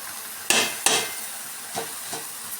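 A spoon stirs a thick dal filling with jaggery for obbattu, giving a few scraping, slapping strokes, two louder up front and softer ones after, with no talking.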